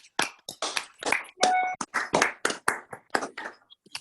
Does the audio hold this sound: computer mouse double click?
no